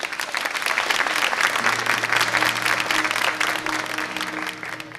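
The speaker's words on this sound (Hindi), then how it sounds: "भरपूर तालियों में इस्तकबाल कीजिए" An audience applauds to welcome a singer at an evening music gathering, a full sustained round of clapping from many hands that stays strong and fades slightly at the very end.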